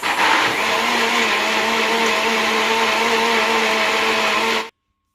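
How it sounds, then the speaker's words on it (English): Blender whirring through sea moss, oats and peanuts, a loud steady motor drone with a slight surge at the start, running evenly before cutting off abruptly near the end. "So I'm just going to blend it for 2 minutes."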